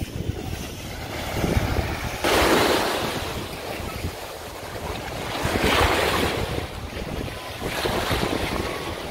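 Ocean waves wash in and break in slow surges while steady wind buffets the microphone, the roar swelling and fading several times.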